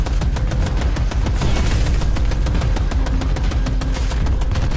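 Dense, rapid gunfire and explosions from the open-world shooter Project LLL rattle nonstop, loud and close, with sharp repeated bursts over a heavy rumbling bed and no talk.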